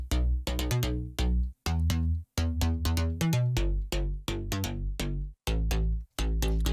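A slap house bass sample from the Savage Sounds pack plays alone in a fast, punchy run of repeated deep synth stabs, with brief gaps between phrases and loud, bright plucked attacks throughout.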